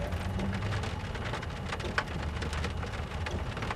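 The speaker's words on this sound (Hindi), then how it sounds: "बारिश हो रही है, देख लीजिए" Steady rain falls in a continuous, even hiss of drops, with one brief thump partway through and no voices.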